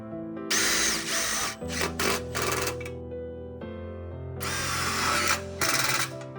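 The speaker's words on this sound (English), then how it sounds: "Start fixing the 16 mm Tek screws." A power drill drives 16 mm Tek screws into a metal gate frame in loud whirring bursts, with several spin-ups and pauses and a rising grind as each screw bites into the steel.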